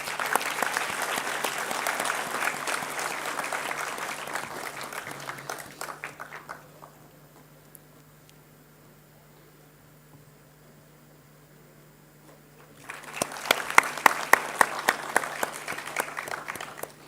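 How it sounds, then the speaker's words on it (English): A college audience at an international G20 conference applauds in a dense burst for about six seconds, then falls quiet over a steady hum before a second loud round of clapping swells up. "May I have a big round of applause,"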